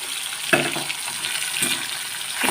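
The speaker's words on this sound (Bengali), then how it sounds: "সবগুলো মাছ আমি ভেজে নেবো" Raikhor fish frying in oil, a continuous close sizzle with a few sharp scraping knocks of a utensil against the pan.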